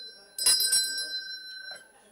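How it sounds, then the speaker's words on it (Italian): A bell rings with a steady, high, sustained tone in a regional council chamber during a vote, while voices speak over it. "Però che suona la campana ogni tanto."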